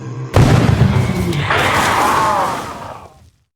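A powered-up Revelation rocket launcher warhead detonating in Project Lazarus: a sudden loud boom erupts after a brief quiet, rolling into a long roaring blast with a second surge, then decaying into silence.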